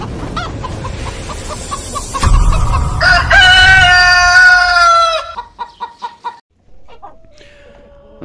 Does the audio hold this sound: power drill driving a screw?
no